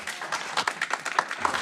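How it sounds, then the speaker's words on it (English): Scattered audience applause breaks out at a county board meeting, a brief patter of clapping at moderate distance over room noise. "Please, no applause, please."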